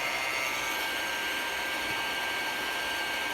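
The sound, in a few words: hair dryer drying paint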